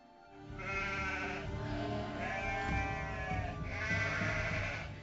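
A flock of sheep bleats outdoors on a pasture, with several long, wavering calls in succession that overlap over a steady background, moderately close and without talk.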